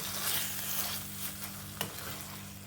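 Banana flower curry cooked with rice and ghee is stirred in a pan, the steady soft sizzle of frying running underneath occasional scraping strokes of a spoon, with one sharper clink near the end.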